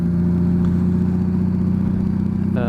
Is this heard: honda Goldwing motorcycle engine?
yes